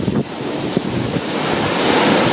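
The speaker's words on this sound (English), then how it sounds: "It's so windy the little birds can barely cling on." Strong gusting wind in a storm roars steadily across the microphone, loud and continuous, with rushing surf-like noise and no talk.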